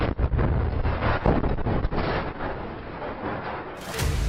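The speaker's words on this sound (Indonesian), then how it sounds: "Dentuman senjata itu disambut teriakan takbir yang menggema di antara para pejuang" Weapon blasts from an attack on an Israeli military excavator in Gaza, heard as a sustained, loud, rumbling barrage of booms and gunfire under heavy wind buffeting, with a sharp burst near the end.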